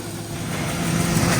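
A feed grinder chews ear corn into cattle feed with a steady, loud mechanical drone and a low rumble, continuous and close.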